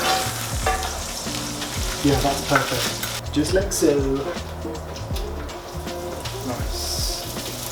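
Thick slices of bread sizzle and crackle steadily in a hot pan for a full English breakfast while someone talks briefly over the frying.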